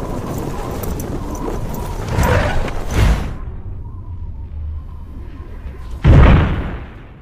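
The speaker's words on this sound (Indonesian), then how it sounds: "dia melompat keluar di saat-saat terakhir sebelum pesawat jatuh meledak" A plane crashes and explodes in a war film, with heavy rumbling building to two loud booming blasts, a quiet gap between them, and a final deep explosion trailing off.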